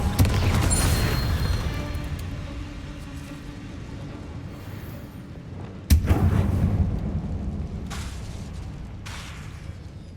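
Confringo fire spells blast in the video game Hogwarts Legacy: a loud, rumbling explosion opens, fades into a long roaring decay, then a sharp second blast hits around the middle and rolls on beneath steady noise.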